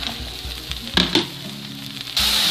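Mushrooms go into a pan of frying onion and garlic for a vegetable mushroom soup. A close sizzle comes with a few spoon knocks and stirring scrapes, then swells sharply into a louder hiss near the end.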